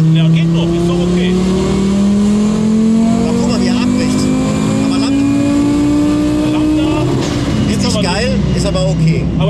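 A turbocharged Audi A4 B5 engine pulls hard under full throttle, its loud droning note rising steadily in pitch toward the rev limiter before a shift drops it, heard from inside the car with voices talking over it.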